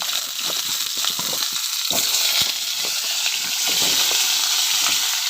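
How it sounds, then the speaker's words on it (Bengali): Potatoes fry in a pan for a vegetarian soybean curry, giving a steady close sizzle with scattered stirring clinks and scrapes throughout. "এবার আলুটা একটু ভেজে নেব।"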